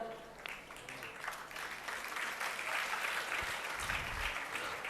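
Audience applause filling a hall during a Jain religious discourse by Acharya Vidyasagar Ji Maharaj, steady dense clapping throughout with a faint voice underneath.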